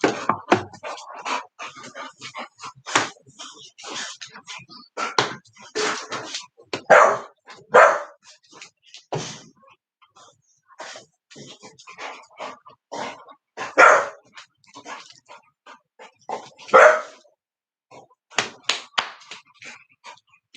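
A dog barks repeatedly in sharp, irregular bursts over a long stretch, fairly close, mixed with thumps and slaps of play.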